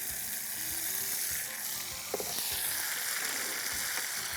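Ground country tomatoes hit hot oil in a pan, with a bright continuous sizzle and a few stirring knocks close by.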